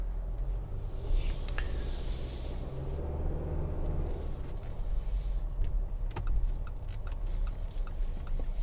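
Cabin sound from a 2022 Mitsubishi Outlander SUV with a CVT on the move: a continuous low road and engine rumble with soft wind hiss and a few light ticks and clicks throughout.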